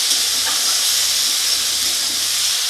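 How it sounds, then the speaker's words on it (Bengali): Soybean chunks frying with spices in a pan, a steady broadband hiss and sizzle holding at an even level throughout with a faint low hum beneath and no talking. "এই সয়াবিনটাকে ভালো করে কষিয়ে নেব মশলার সঙ্গে।"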